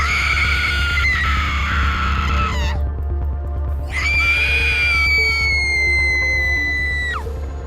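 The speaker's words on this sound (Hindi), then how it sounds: "कोयला पड़ते ही वो चिल्लाने लगी और अजीब सी" A woman's shrill, wavering scream, a horror sound effect in a Hindi horror cartoon, rises and holds in two long bursts separated by a brief pause, loud and harsh over a low rumbling background.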